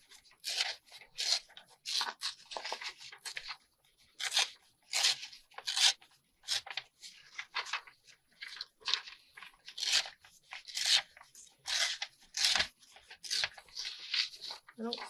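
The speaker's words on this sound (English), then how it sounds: "I'm just going to tear it." Sheets of paper are torn by hand in short, repeated rips while making envelope booklets, close and crisp, coming in bursts with brief pauses and a voice speaking between them.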